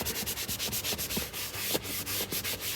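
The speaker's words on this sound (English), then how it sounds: "Got a dirty seat here. Let's soak it. Put some on the scrub brush here." A stiff scrub brush works cleaner into a dirty, soaked car seat during interior detailing, making rapid, rhythmic back-and-forth scrubbing strokes up close with no talking.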